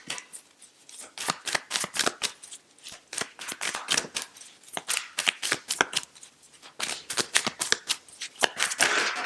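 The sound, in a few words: tarot cards being shuffled and handled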